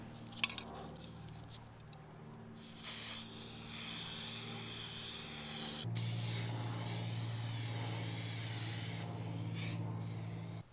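A can of silver metallic spray paint hisses, first in a brief puff, then in a longer steady spray lasting a few seconds, over a low background hum.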